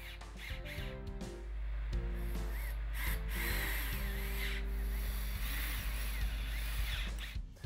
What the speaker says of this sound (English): install pocket hole screws into each of the 8 holes you drilled